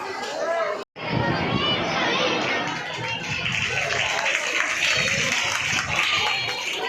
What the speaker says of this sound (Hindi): तालियां कुछ ढीली पड़ रही हैं,